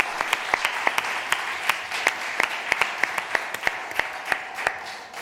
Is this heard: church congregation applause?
yes